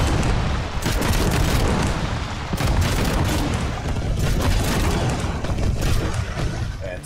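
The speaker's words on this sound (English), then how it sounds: "seven gun barrage from the back" Rapid cannon barrage from a seven-gun weapon on a remote-controlled attack drone in the video game Trailmakers, a loud, dense stream of overlapping booms and blasts for several seconds with no pauses.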